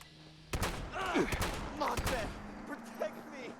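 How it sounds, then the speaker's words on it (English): Shotgun blasts in the video game Fallout 76, several sharp close reports in quick succession over about two seconds, followed by fainter impact and game effect sounds, with a voice talking over them. "it being a shotgun, we're going to get up as close as we can"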